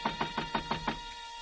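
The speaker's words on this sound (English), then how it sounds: "so I got over to the door and knocked" Six evenly spaced knocks on a door, fairly close and crisp, ringing out alone against a quiet room tone before a short silence.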